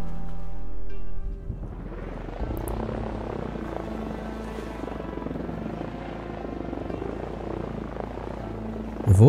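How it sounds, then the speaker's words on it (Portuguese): A helicopter flies steadily in the video game Sunkenland, a continuous rumbling rotor drone that holds for several seconds at moderate loudness, with no talk over it. "Eu vou enfiar o helicóptero aqui"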